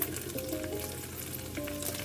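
Instant Japanese Napolitan tomato spaghetti noodles go into a pan with fatty gravy and sizzle, giving a steady, fairly soft frying hiss with light stirring and no voices.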